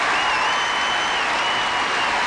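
Audience at the 1995 World Professional Figure Skating Championships applauds loudly and steadily, a dense, sustained wash of clapping from a large arena crowd with no pauses.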